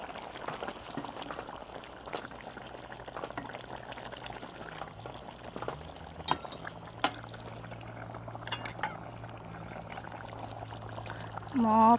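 Coconut water pours into a simmering pot of Thai red curry chicken, a soft continuous liquid trickle over gentle bubbling, heard close with no talking.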